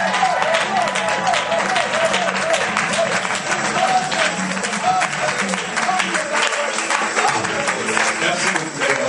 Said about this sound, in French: Une offrande d'applaudissements pour le roi des gloires.